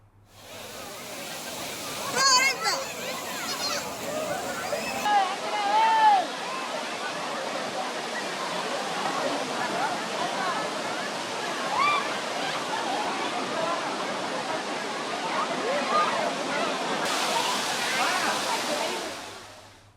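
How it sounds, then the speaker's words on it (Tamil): The Kovai Courtallam waterfall, fed by Siruvani water, roars as a dense, continuous rush with tourists bathing beneath it, splashes and distant shouts of voices carried over the steady torrent. "வனத்துறை வாகனத்தில் ஏறி சிறுவாணி தண்ணீரில் அருவியில் குளித்து மகிழ்ந்து செல்கின்றனர்"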